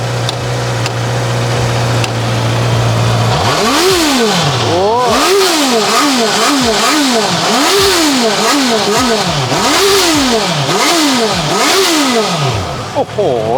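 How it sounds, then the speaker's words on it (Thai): A used motorcycle from a dealer's lineup of Ninja 400, CB650F, CBR650F and CBR650R models, starting and then revving repeatedly in rising and falling sweeps, loud and close, after a steady low idle. "ลองมาฟังเสียงเครื่องยนต์ดูนะครับ"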